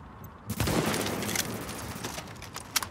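Rapid gunfire from The Division video game: a burst of shots begins abruptly and runs as a dense, continuous fusillade, with a few sharper single cracks near the end. No one talks over it.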